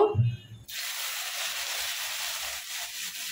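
Cut taro hits hot mustard oil in a pan, setting off a sudden loud, steady sizzle that holds on from the moment it lands, after a brief soft clatter.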